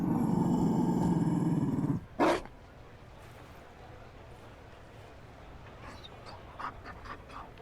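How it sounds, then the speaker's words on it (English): A Mabari war dog in Dragon Age: Inquisition gives a loud, close, steady rumbling pant for about two seconds, then a short burst, before the scene falls to a quiet ambient bed with faint distant sounds. "found a dog. They don't breed Mabari in Olay."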